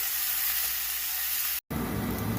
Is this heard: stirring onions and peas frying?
yes